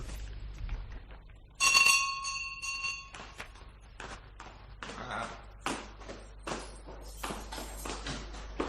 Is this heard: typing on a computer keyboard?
no